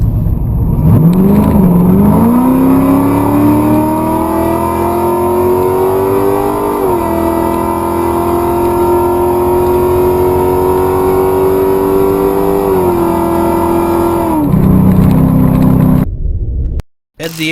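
An NMCA True Street drag racing car makes a full pass at the 2021 NMCA Finals at IRP. The loud engine roar climbs in pitch through two gear changes, then drops off as the throttle lifts near the end.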